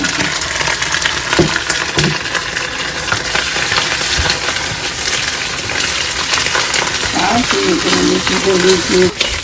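Garlic and cumin seeds sizzling in a hot pan while green masala chicken is being cooked, a loud, steady, crackling fry throughout, with a few stirring clinks and a metallic scrape near the end.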